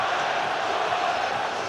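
Football crowd at Carrow Road roaring after a Norwich goal, a dense sustained wall of distant cheering with no break.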